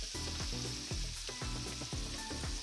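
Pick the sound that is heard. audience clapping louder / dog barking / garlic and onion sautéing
garlic and onion sautéing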